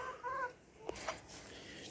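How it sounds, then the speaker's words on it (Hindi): A Light Sussex hen gives a few soft clucks close by, short and quiet, with a couple of brief bumps in a calm setting. "तो ये मुर्गी है"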